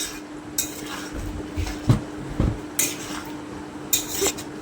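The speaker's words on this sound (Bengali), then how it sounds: "নাড়াচাড়া করে নিচ্ছে" A pan of pointed gourd curry with coriander leaves being stirred. The spoon scrapes and knocks against the pan several times over a faint, steady background hum.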